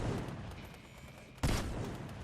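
One sharp, loud blast from a shotgun fitted with a laser sight in Fortnite Chapter 5, fired at body range, standing out from a steady background hiss of game noise.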